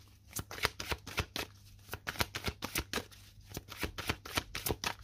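Astrology or tarot-style cards being shuffled by hand, a close run of crisp riffling bursts and snaps in an irregular rhythm, heard alone with no talking.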